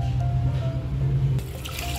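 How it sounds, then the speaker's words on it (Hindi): Water being poured into chicken stock for Hyderabadi haleem, a short steady trickling splash into a cooking pot, fairly close and loud, with no one speaking. "अब इसमें हम ऐड करेंगे थोड़ा पानी,"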